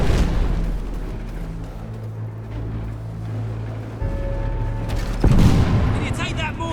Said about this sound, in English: Can you take that mortar out? It's really starting to annoy me.